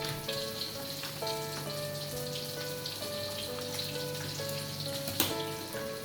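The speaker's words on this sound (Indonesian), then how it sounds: "Lanjut sambil goreng ikan, sambil refill minyak ya." Fish sizzles in hot oil with a constant crackling hiss, moderately close, under soft background music with sustained notes and a sharp clink near the end.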